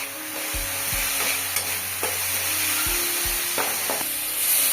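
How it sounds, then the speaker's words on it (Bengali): Spices with turmeric and chilli powder frying in a pan and being stirred, a steady close sizzle broken by several scraping strokes of a spoon and occasional knocks against the pan, no voices. "অল্প একটুখানি জল দিয়ে মশলাটাকে কষিয়ে নেব"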